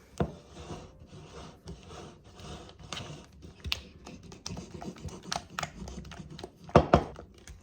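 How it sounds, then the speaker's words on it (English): A spoon scrapes and taps against a pot while stirring a candy mixture as it melts, giving irregular close clicks and scraping rubs, with no talk. "Just gonna stir until everything gets all melted."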